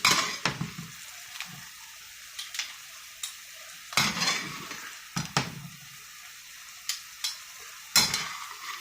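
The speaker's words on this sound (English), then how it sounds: "I'm going to continue ladling this on while my sauce continues to cook" Sauce ladled over shrimp and mussels for carbonara, with repeated scraping and clinking of a ladle against a pan over a low simmering sizzle, a few sharper knocks standing out amid the steady kitchen activity.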